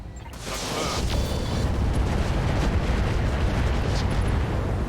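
Heavy weapons fire in RogueTech strikes and destroys a mech, building into a loud, sustained rumbling explosion with crackling bursts layered over a deep roar.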